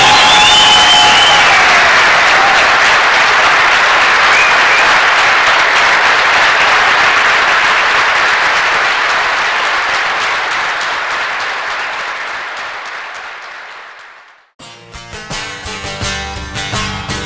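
A concert crowd at a Berlin anniversary concert breaks into dense, loud applause that slowly fades over about fourteen seconds, then music starts up quietly.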